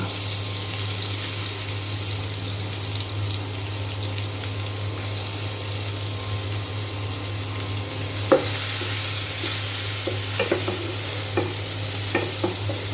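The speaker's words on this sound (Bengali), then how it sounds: "এখন এই তেলের মধ্যে দিয়ে দেব পেঁয়াজ কুচি।" Chopped onion drops into hot oil left from frying eggs, a steady close sizzle under a low kitchen hum, followed by sharper clinks and stirring scrapes toward the end, no speech.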